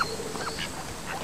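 Ducks quacking by a stream in the horse-racing game Rival Stars Horse Racing, a few soft nasal quacks scattered over a short moment against faint ambient background.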